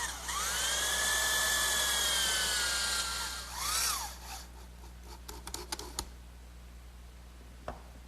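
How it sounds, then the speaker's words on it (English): Power driver whirring as a drywall screw is driven into a wooden rocking horse side panel, a rising high whine for a few seconds, then slowing, followed by faint clicks and taps. "I'll fasten this with a drywall screw."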